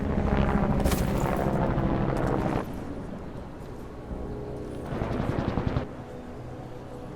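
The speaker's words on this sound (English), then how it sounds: "The helicopter sound distorted." Distorted helicopter rotor noise from the video game Deus Ex: Mankind Divided, a loud, harsh, crackling drone that roars through the first few seconds, dips, then swells again briefly near the end.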